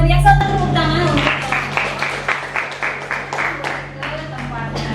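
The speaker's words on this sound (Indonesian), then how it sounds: "Luar biasa, tepuk tangan untuk" A class of students applauds after a presentation, a brisk run of hand claps over the whole stretch, fairly close, with a teacher's voice speaking at the start.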